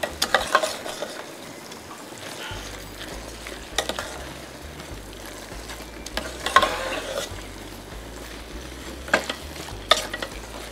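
Gizzard frying and being stirred in a pan, a steady low sizzle under irregular scraping stir strokes, some louder clatters against the pan, close and moderately loud with no talking.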